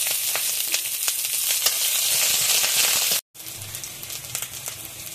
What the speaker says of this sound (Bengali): তেল গরম হয়ে গেছে, এখন আমি তেজপাতা, এলাচ, লবঙ্গ তেলের মধ্যে দিয়ে দেব। পেঁয়াজ কুচি দিয়ে দেব,